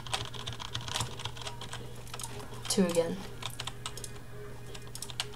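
Rapid clattering keystrokes on a computer keyboard as the Z key is spammed during Roblox Business Simulator play, close and steady with a brief spoken word over them.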